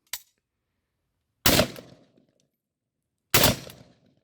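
SR-45 pistol fires three loud, sharp gunshots, one brief shot at the start and two heavier blasts about two seconds apart, each with a short ringing tail, no talking.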